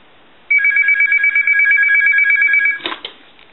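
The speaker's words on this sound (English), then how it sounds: "We'll go ahead and ring the telephone." An Italian wooden desk telephone, freshly repaired, rings its bell in one loud, continuous burst of about two seconds, cut off abruptly with a brief clatter, then quiet.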